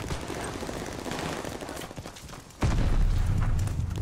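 Rapid gunfire in a shooter video game using a new Umbrella Academy weapon, a dense sustained burst of shots with booming impacts that grows louder and heavier partway through.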